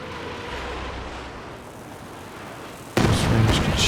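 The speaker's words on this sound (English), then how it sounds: "Range Katyusha action." Katyusha rocket artillery firing in the Company of Heroes 2 strategy game, a sudden loud burst of rocket launches and blasts erupting after a few seconds of low battlefield rumble.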